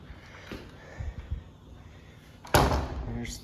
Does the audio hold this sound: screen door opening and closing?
yes